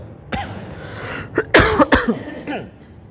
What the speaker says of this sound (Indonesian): Bapak Ibu batuk semua ya